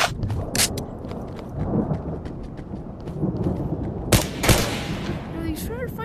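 Gunshots in a small video game firefight against a couple of enemies, scattered sharp cracks and bursts over a rumbling game background, with a couple of louder shots near the end.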